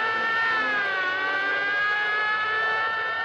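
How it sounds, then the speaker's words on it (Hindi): A loud, steady wailing police siren holding a sustained tone throughout, close and continuous with no other sounds. "ये पुलिस के सायरन"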